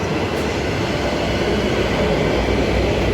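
Six-car electric multiple unit train, sets EMU 107 and EMU 105, at Murdoch station, a steady loud close rumble of rolling stock and wheels that stays even throughout with no voices.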